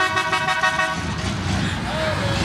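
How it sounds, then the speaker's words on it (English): Short car horn toots at a fair combine demolition derby, sounding repeatedly over engine noise and crowd chatter, with people talking nearby. "Notice it's always short honks,"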